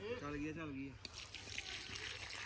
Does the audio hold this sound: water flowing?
yes